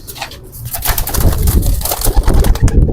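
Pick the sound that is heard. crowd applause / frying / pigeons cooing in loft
pigeons cooing in loft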